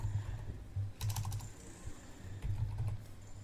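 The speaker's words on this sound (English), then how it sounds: "again type in msconfig space msc" Quick, light keystrokes on a Windows 11 laptop keyboard, arriving in two short close-up bursts of clicking separated by pauses, over a low steady hum.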